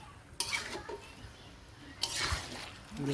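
Meat with spices being stirred in a pot, with two short bursts of scraping and wet, shuffling movement separated by a quieter stretch, close and fairly soft, with no voices.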